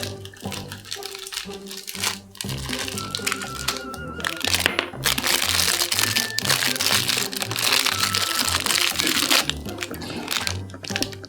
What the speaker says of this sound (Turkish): Hadi poşet açalım. İlk poşeti açıyorum.